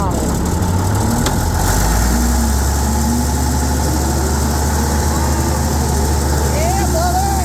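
Bulldozer engine running steadily with a low rumbling idle and slight throttle variation, loud and continuous throughout, with some background speech.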